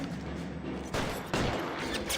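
Gunfire in L.A. Noire during a shootout, with two sharp broadband shots landing about a second apart over steady in-game background noise, fairly loud and close.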